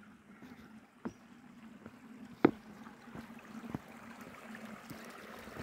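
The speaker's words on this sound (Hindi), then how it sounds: "ये चश्मे का पानी आ रहा" Spring water from a mountain stream flows steadily past meadow grass in Arang Kel, Neelum Valley, a continuous broad rushing wash with a few sharp knocks and splashes standing out.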